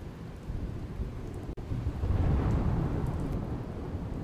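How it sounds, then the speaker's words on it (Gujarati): Heavy downpour with thunder in Nadiad, Kheda, Gujarat: dense, steady rain hiss joined by a deep rolling thunder rumble that swells after a brief sharp crack and lingers to the end. "ખેડાના નડિયાદમાં ખાબક્યો ધોધમાર વરસાદ।"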